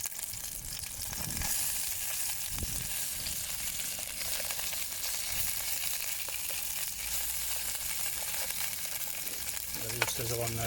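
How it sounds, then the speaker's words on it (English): Sausages sizzling and frying steadily in a hot pan with shallots, a continuous crackling hiss that holds at an even level throughout, with a light clatter near the end. "Sizzle on now."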